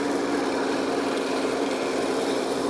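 A metal lathe turns an arrow part down to a 27 mm cylinder, giving a steady, continuous high whine with broadband machining hiss throughout, loud and close with no talk.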